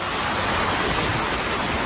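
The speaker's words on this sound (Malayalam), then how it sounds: "നല്ലോണം പെയ്യുന്ന മഴ. പെരും മഴ എന്ന് പറഞ്ഞാൽ പെരും മഴയാണ്" Heavy monsoon rain pours down around a house, a dense, steady roar of falling water with no break or voices over the short stretch.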